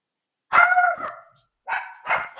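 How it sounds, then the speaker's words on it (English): Several house dogs bark in excited bursts, one long loud volley followed by two shorter barks after a pause, close and clear in a quiet room. "there's my dogs going crazy"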